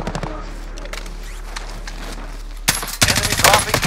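Gunfire in Call of Duty: Modern Warfare, rapid bursts that start quieter and turn loud and dense near the end, with other game sounds in the background.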